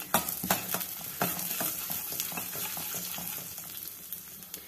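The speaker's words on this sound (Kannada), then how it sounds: "ಎಣ್ಣೆ ಬಿಸಿಯಾಗಿದೆ. ಇದಕ್ಕೆ 1 ಚಮಚ ಸಾಸಿವೆ ಸೇರಿಸ್ತಾ ಇದ್ದೀನಿ." Mustard seeds, chana dal, asafoetida and dry red chillies crackle and spit in hot oil for a methi millet rice bath, a dense close sizzle with sharp popping bursts and scraping stirs, no voices.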